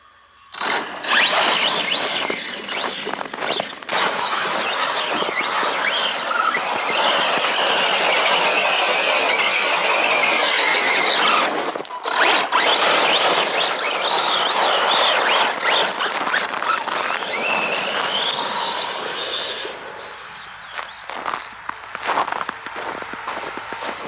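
An ARRMA Big Rock 3S RC truck runs at full throttle through snow, its loud, sustained, high-pitched motor whine and squeal broken by a brief dip partway through before it fades out near the end.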